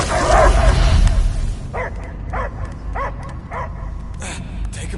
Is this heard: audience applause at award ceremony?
no